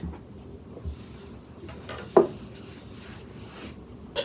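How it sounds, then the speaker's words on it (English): Sugar, egg yolks and whole eggs stirred together in a bowl for crème brûlée, making soft, quiet rubbing and scraping with a couple of brief louder knocks against the bowl. "we're going to give that a good mix"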